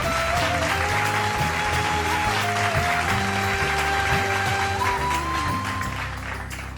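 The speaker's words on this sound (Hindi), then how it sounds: "मैं चाहूंगा एक बार जोरदार तालियां" A crowd claps steadily and loudly throughout, with music playing underneath the applause.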